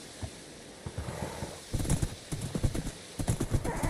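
Horse hooves clip-clopping in a Lord of the Rings modded Minecraft game, a run of quick, close, fairly loud hoofbeats that picks up and grows denser toward the end, with no talk.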